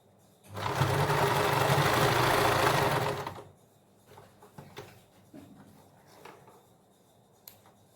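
A sewing machine topstitches a printed suit in one loud, steady run of about three seconds, then stops, leaving faint handling clicks and rustles.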